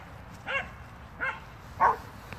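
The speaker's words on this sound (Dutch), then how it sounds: "We hebben Sammy de Blafkous, de Australian Shepherd" An Australian Shepherd barks three times at an even pace, short, bright yelps heard at moderate distance over a soft, steady background hum.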